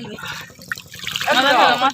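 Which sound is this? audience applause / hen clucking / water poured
water poured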